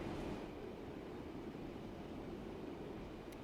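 A train runs in the video game Train Sim World 3, giving a steady low rumble and rolling noise that is faint and continuous, with no talking.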